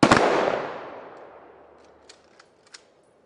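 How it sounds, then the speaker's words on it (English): A single loud honor guard rifle volley cracks out close by at the Tomb of the Unknown and rolls into a long, fading echo, with a few faint clicks of rifle actions near the end. "Honor guard. Put. Ready. Aim. Fire."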